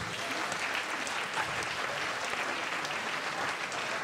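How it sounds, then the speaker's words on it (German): Steady, dense audience applause fills the room at a poetry slam, a continuous wash of many hands clapping at even loudness throughout, with no voices standing out. "Einen großen Applaus"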